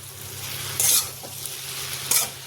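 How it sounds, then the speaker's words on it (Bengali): Sabudana khichdi with peanuts and spices being stirred in a pan over low heat, a steady soft sizzle broken by two brief, sharp scraping strokes of the spoon, close and with no talking. "এখানে যে বাদামটা আর যে মশলাটা দিয়ে খুব ভালোভাবে মেলাতে হবে"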